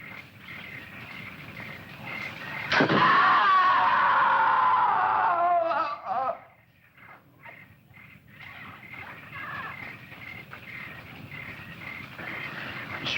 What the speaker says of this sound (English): I'm sure I heard a scream.